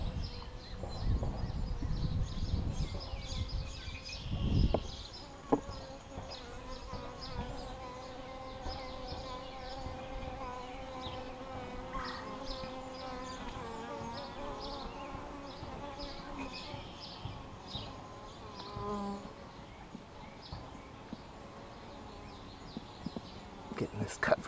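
Dense buzzing of many honey bees at an open hive being split fills the air up close, steady throughout, with occasional faint honk-like tones.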